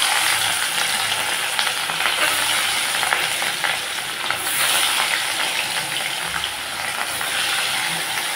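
Fish pieces fry in hot mustard oil in a kadai, giving a loud, continuous sizzle with crackling pops and some scraping stirs throughout.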